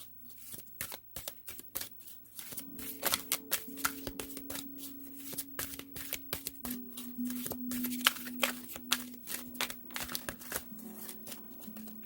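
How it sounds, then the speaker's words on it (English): Power of Surrender oracle cards being shuffled by hand, a steady run of crisp, rapid riffling and slapping close up, with a low steady hum underneath throughout. "So I'll pull a Power of Surrender card for you and one for your partner"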